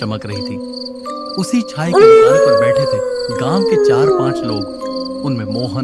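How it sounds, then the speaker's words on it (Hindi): Village dogs howling at night, one long wavering howl rising and falling over steady cricket chirps, with a narrator speaking over them. "आज ये कुत्ते इतना क्यों भौंक रहे हैं रे?"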